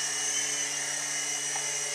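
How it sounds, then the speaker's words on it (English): An indoor RC helicopter's rotor whirs with a steady high-pitched electric whine and hum, constant and fairly close throughout, with no talking. "and it brings the helicopter to the side."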